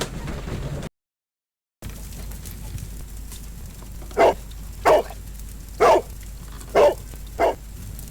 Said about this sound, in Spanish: ahora encontramos el perro